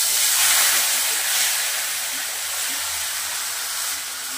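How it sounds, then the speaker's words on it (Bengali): Borli fish frying in oil in a kadai, giving a steady, broad hiss close by with no talk over it. "এই বরলি মাছগুলোকে সব কড়াইয়ের মধ্যে ছেড়ে দেব, দিয়ে ভালো করে প্রথমে ভেজে নেব।"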